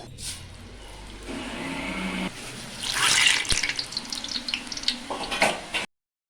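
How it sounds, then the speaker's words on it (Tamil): Murukku dough pressed into a pan of hot oil for Diwali snacks, giving a broad steady sizzle that swells louder midway with bursts of bubbling crackle, then cuts off abruptly. "இப்போ எண்ணெய் சட்டி எண்ணெயில் போட்டுருவோம்."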